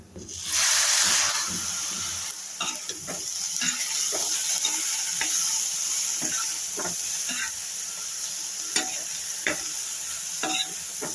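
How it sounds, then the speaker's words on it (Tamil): Usili made with crumbled lentils and cluster beans is sautéed in a pan, a loud close sizzle that rises sharply at the start, then a string of scraping and stirring strokes against the pan over a continuous hiss. "நல்லா மூடி வச்சு வதக்கி நல்லா உதிரியாக ஆகிற வரையும் வதக்கணும்."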